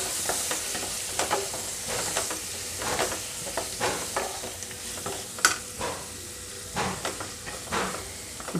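Cut eggplant sautes in hot tempering oil for stuffed eggplant masala, a steady close sizzle broken by repeated sharp crackles and stirring scrapes, with no talking.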